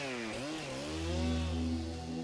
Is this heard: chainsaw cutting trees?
yes